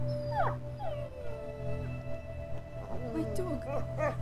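A dog whimpers and howls in the video game A Plague Tale, with thin wavering cries rising and falling over a few seconds while people talk over them.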